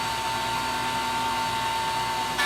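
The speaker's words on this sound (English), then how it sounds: "When routing this, you should use a scrap piece on the front of and the back of the dado you're routing to avoid any tear out." A router cuts a dado across cedar, a loud, steady high-pitched whine that holds evenly for a couple of seconds and swells slightly at the very end, with no talking.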